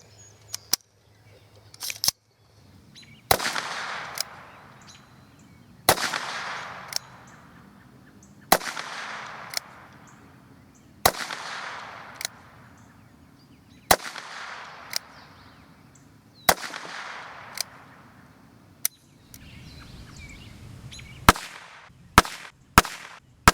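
A string of about a dozen gunshots from a Ruger Wrangler revolver fired at 10 yards, evenly paced sharp cracks every two seconds or so, each followed by a decaying echo, with quicker shots bunched near the end.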